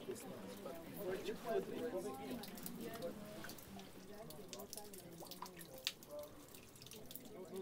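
Water from a spring runs and trickles steadily in the background at Machu Picchu, Peru, while a voice talks over it.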